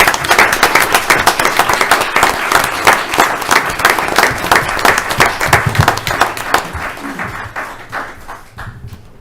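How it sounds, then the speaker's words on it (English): An audience at a board of directors meeting applauding, dense sustained clapping from many hands nearby that holds steady and then thins out toward the end. "We can all applaud."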